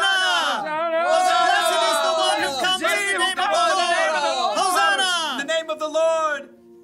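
An excited crowd shouts and cheers as Jesus rides a donkey into Jerusalem the week before Passover, with many overlapping voices calling out continuously and close before fading at the end.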